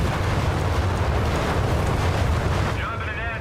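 Bombing run explosions from the video game Company of Heroes 3 roar as a loud, continuous blast rumble that fills the whole stretch, easing slightly at the end as a faint voice enters.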